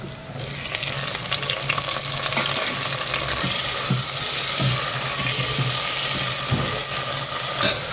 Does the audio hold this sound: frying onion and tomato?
yes